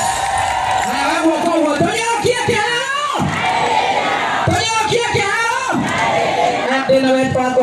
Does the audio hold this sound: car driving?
no